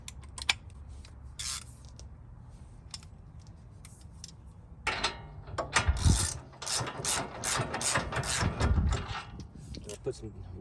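Ratchet clicking as a spindle nut is removed by hand on a 2nd-gen Toyota Sequoia, quiet sparse clicks at first, then a long run of fast, louder ratcheting strokes close by.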